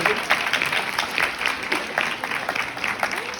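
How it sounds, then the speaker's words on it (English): An audience at an anime panel at Comic Con Liverpool breaks into brief, moderately close applause, a dense patter of many clapping hands that pulses slightly over a few seconds. "Round of applause for our first person."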